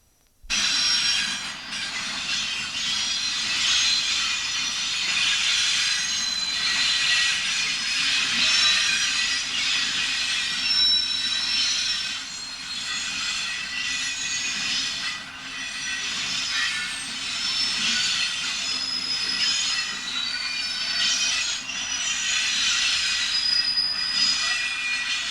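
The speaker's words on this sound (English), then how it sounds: "the train now leaves the junction and crosses over the Torn before joining the electrified line towards Doncaster" An EWS freight train pulls away from a junction near Doncaster, a loud sustained roar of wagons with wheel squeal and screech running continuously, close to the line, without voices.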